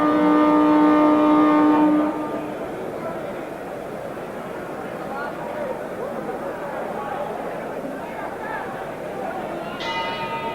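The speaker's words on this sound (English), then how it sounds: "The bell for round 8." A boxing ring bell rings once to start a round, a loud ringing tone with a long decay over crowd noise, followed by a steady arena murmur and a second brief bell strike near the end.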